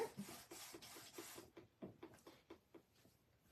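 A press pop tool rubbed back and forth over glued paper in a stamping craft project, giving soft, close rhythmic scraping strokes, busier at first, then sparser and quieter.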